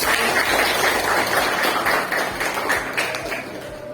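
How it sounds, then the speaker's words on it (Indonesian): Schoolchildren in a classroom clap for a classmate during a lesson, a dense close burst of hand claps that runs steadily and eases slightly toward the end. "Tepuk tangan untuk Mutia."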